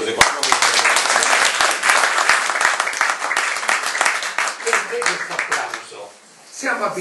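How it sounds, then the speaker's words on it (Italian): Scattered audience clapping at an Italian public conversation, dense and crisp at first, thinning out and briefly dying away before resuming, with voices underneath. "Se qualcuno vuole fare un applauso."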